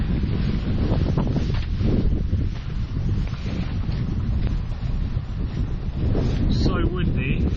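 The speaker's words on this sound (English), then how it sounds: "So windy." Strong wind buffets the microphone on a big hill during wild camping in the rain, a loud continuous roaring rumble with gusty swells, while a voice speaks briefly under it.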